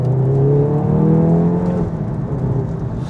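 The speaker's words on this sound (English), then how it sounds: "Little third gear pull, 30 miles an hour." A manual Stage 2 MK7.5 Volkswagen Golf R pulls hard in third gear from about 30 mph, its engine note rising steadily in a loud, close drone before easing off near the end.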